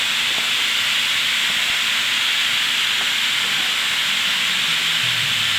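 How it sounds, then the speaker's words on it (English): An air compressor bleeding off air, giving a loud, steady, unbroken hiss that stays constant throughout with no voices over it. "Compressor's bleeding off."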